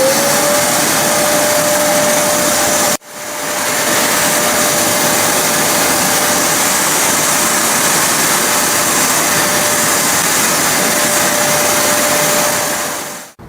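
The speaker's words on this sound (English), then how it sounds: "turn on the vacuum by turning the knob to 1." Karcher WD2 Plus wet and dry vacuum cleaner running with a loud steady whine and airy rush, briefly cutting out near the three-second mark before spinning back up and droning evenly until it stops at the end.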